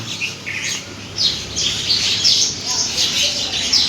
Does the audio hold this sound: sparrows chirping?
yes